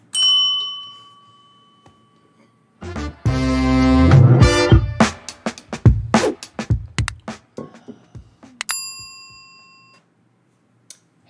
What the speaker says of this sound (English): let's hit the bell.